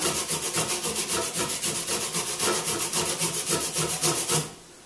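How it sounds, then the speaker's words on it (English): A washed ginger root is grated by hand, about half an inch's worth, giving a fast rhythmic rasping scrape, close and loud, with dozens of even strokes that stop abruptly at the end. "this is just a washed ginger root, which I'm now going to grate in order to get the ginger juice out of it"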